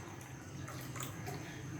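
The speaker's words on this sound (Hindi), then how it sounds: "एक में खतौली का पानी डाल देते हैं और एक में अपना कैंगन वाटर डाल देते हैं।" Water pours into a container during an at-home comparison of Khatauli tap water and Kangen water: a soft, continuous splashing trickle with faint drips, close by and quiet, with no talking.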